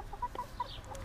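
Backyard chickens cluck softly in a quick burst of short, bright notes, fairly faint and close together, with no one talking.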